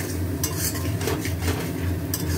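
Spices being stirred and sautéed in a pan, a close, continuous scraping and rustling of a spatula against the pan over a low background hum, with a few brighter scrapes.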